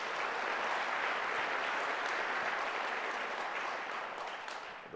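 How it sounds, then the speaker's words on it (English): A conference audience claps for the event staff at a partnership conference, producing dense, sustained applause from a large crowd that fills the room and fades slightly at the end. "please give the staff another round of applause"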